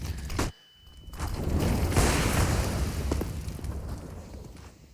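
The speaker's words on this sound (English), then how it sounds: "But flashbangs flying through." Flashbang grenades in CS:GO during a NaVi vs. Team Liquid match on Mirage at ESL One Cologne 2019: a sharp pop, a brief drop, then a loud, sustained hissing burst that slowly fades.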